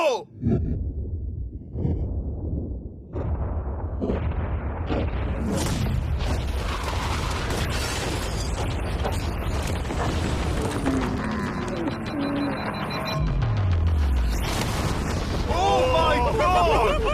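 A yacht is blown up in a loud explosion that bursts in after a quiet countdown, followed by a long roaring, rumbling wash of blast noise and debris with people exclaiming over it.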